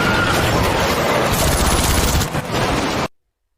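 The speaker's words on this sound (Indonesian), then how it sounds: "Tyler mulai menembaki para tentara penjaga perbatasan tersebut" Gunfire from a film scene, soldiers guarding a border being shot at: a dense, loud burst of rapid automatic fire and impacts lasting about three seconds, then an abrupt cut to silence.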